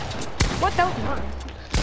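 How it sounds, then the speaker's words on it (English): Gunfire in a Fortnite 1v1 match: two sharp, loud shots about a second and a half apart, with people talking in between. "I shot you in that now."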